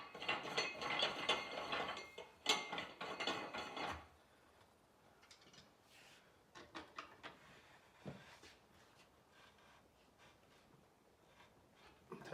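Ratcheting clicks and metallic clanks from tightening a carriage bolt on a Harbor Freight tire changer, with a busy burst of rapid ratchet strokes followed by sparser, quieter clicks and knocks, close by and fairly faint.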